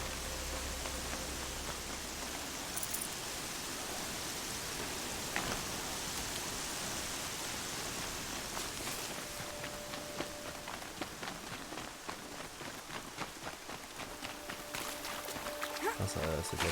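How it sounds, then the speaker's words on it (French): Rain falls in the video game Horizon as a constant soft hiss spread across the whole scene, with faint rhythmic footsteps and a voice speaking over it. "Ah, ça, c'est de la pluie"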